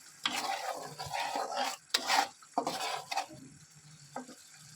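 Masala for a meat curry is sautéed and stirred in a pot, with bursts of scraping and sizzling between short quiet pauses.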